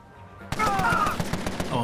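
Gunfire in the game Empire of Sin, a sudden burst of rapid repeated shots after a quiet half second, dense and loud to the end.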